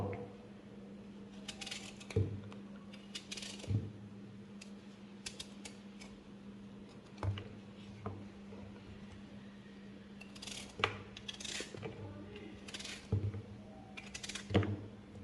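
Raw mango is chopped into small pieces with a knife, making faint, quiet taps and clicks at an irregular pace over a low background hum, with no speech.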